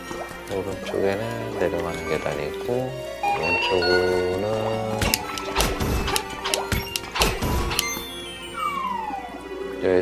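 Water splashes and drips in Zelda: Link's Awakening, with a crash and liquid plops over tonal game music while a voice talks.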